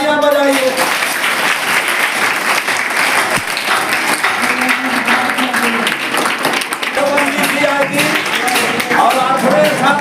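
An audience applauds for the students at a school results announcement, sustained loud clapping across the whole stretch, with a voice faintly heard underneath.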